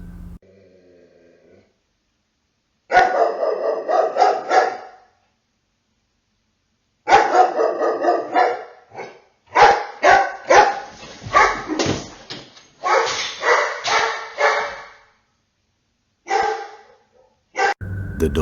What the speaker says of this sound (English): The dog starts barking as if it knows something unseen is in the vicinity